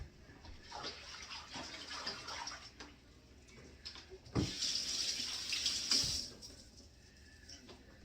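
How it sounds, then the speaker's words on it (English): Kitchen tap water runs steadily into a sink while a hand is rinsed, a close, continuous splashing hiss that swells louder toward the end, with no talk. "Let me rinse my hand."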